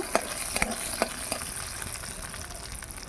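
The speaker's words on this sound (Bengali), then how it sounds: "এবার বাদামগুলো ভেজে নেব" Peanuts fry in a pan with a steady sizzle close up, broken by several sharp scraping stirs of a spatula during the first second or so.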